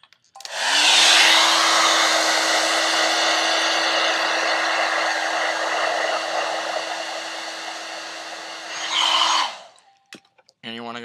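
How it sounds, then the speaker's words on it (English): A handheld hair dryer blows loudly and steadily for about eight seconds, heating a sticker on a GameStop game case insert, then switches off, leaving a brief quiet tail. "And you're going to turn your dryer on"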